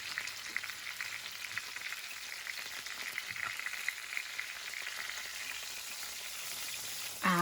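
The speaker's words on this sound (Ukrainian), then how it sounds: "Олія дуже зла на розкаленій сковорідці." Steady, crackling sizzle of hot oil in a red-hot frying pan, close and continuous, with small pops scattered throughout and no talking.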